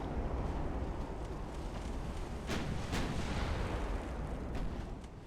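Warship guns fire heavy explosive shells in Ultimate Admiral: Dreadnoughts, with a couple of sharp distant booms standing out from a continuous loud battle and sea roar, no speech.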